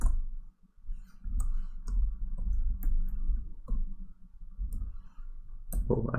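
Keys clatter on a computer keyboard as data fields are typed into MATLAB, a quick run of soft, irregular clicks over a low background hum, close by and with nobody speaking.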